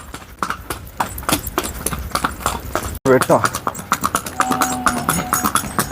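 A Sindhi mare walks with a quick, even clip-clop of hooves on hard ground, close and prominent, while someone speaks over the steady rhythm.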